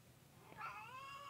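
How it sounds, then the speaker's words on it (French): A single cat gives one drawn-out, plaintive meow, rising then trailing off, faint and close in a quiet indoor room. "je vais faire sortir le chat"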